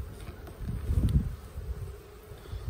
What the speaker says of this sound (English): These bees are very calm today.